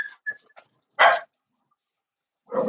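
Nearby dogs squabbling at night: a couple of faint yips, then two short, loud barks about a second and a half apart, close by, with silence between them.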